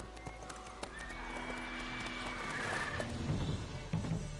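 The horse Roach from The Witcher 3 whinnies and stamps in-game, hoof clops and snorting heard at moderate distance over faint ambient background, with a neigh rising midway.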